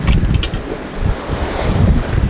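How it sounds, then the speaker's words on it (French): Ocean swell washes against a sailboat at sea, with steady surging water and strong wind buffeting the microphone, loud and continuous. "Il y a une belle houle,"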